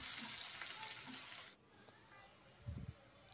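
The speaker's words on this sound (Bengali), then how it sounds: "চেড়ে হালকা করে একটু ভেজে নেব।" Chopped onions fry in the oil left after frying rohu fish, a loud broadband sizzle that drops suddenly halfway through, followed by a quieter stretch with a low thump near the end.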